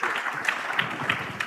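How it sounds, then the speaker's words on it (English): Audience applause for a panel at a business summit in Africa, a thinner spread of claps with a few sharp individual hits standing out, moderately quiet, from a hall crowd. "they are yours for the applause"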